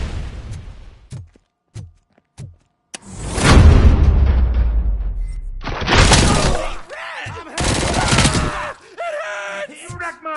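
Gunfire in the RoboCop video game: several sharp isolated shots, then a long crashing burst with glass shattering and heavy booms, followed by further loud blasts and electronic effects.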